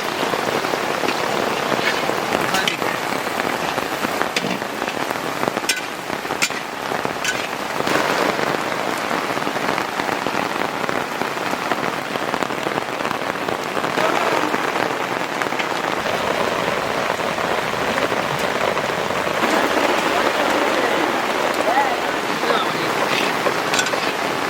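Onions tipped into hot oil in a large pan over an outdoor village cooking fire, a loud, dense, unbroken sizzle that hisses steadily from start to finish with faint voices underneath.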